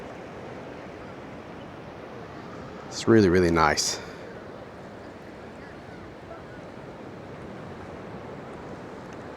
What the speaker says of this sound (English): Just the sounds of the waves